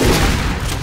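A loud, booming rifle shot in a shooter video game, a heavy blast that fills the brief moment and rings out with a rough, sustained tail.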